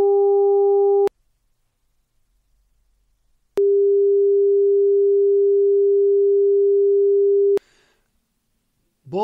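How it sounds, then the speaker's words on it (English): A 400 Hz tone from a dielectric elastomer loudspeaker driven by a square-rooted sinusoid buzzes with overtones for about a second and stops. After silence, a pure, clean steady tone plays for several seconds, and a voice begins at the very end. "Then the same pitch generated with a square-rooted sinusoid."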